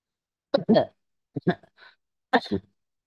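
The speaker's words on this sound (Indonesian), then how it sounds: "maaf, maaf batuk itu" Several short, harsh coughs from a presenter during a live gold and forex trading chart session, close to the mic, in three separate bursts with brief silences between them.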